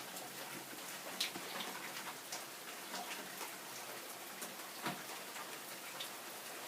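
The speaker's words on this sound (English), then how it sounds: "Just look at how hard it's raining." Heavy rain pours steadily during a January thunderstorm, a dense, continuous hiss with scattered louder drops and taps, fairly close and with no talking.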